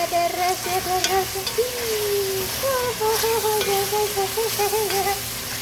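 Food fries in a pot while being stirred, with a constant hissing sizzle under a wavering tonal voice or music in the background.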